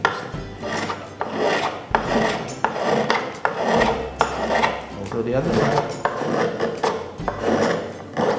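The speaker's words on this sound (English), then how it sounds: "So I'm using again this Taiwan shaver." Repeated rough rasping strokes of a hand tool shaving wood, steady rhythmic scrapes about every second, with a brief spoken remark partway through.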